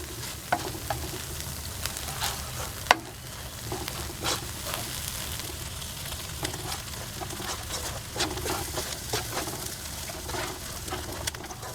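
Curry paste stir-frying over medium heat with coconut cream added gradually, a steady soft sizzle and scraping stir, with occasional clinks of a utensil against the pan and faint birdsong in the background.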